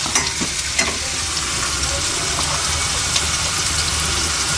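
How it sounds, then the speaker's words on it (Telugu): Onions frying with a little salt in a pan for a goat tripe curry, a loud continuous sizzle close up with occasional light stirring taps. "కొంచెం ఉల్లిగడ్డలు ఎప్పుడైనా కొద్ది సాల్ట్ వేస్తే వేగిపోతాయి"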